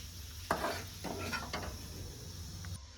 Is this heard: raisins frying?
yes